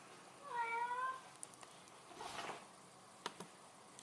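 A pet cat gives a single faint, drawn-out meow indoors, followed by a few quiet clicks and light rustling, with no talking.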